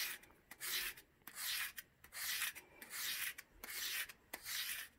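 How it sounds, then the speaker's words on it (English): A clipper blade is stroked back and forth on the hollow-ground part of a sanding block, a soft rhythmic rasping with about eight even strokes, close and quiet. "by using this hollow part of this sanding block"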